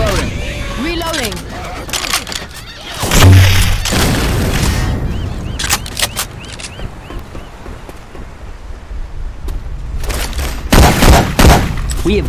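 A grenade launcher fires in Left 4 Dead 2 with Syphon Filter weapon sound effects, loud booming shots and gunfire bursts scattered throughout amid busy game noise.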